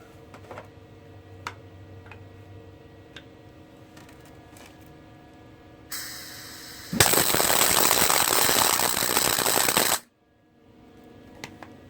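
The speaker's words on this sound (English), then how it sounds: "Hell of a tack weld." Tack welding an Artec truss outdoors: scattered faint ticks and taps, then a sudden loud burst of harsh crackling hiss for about three seconds that cuts off abruptly, followed by a few more light clicks.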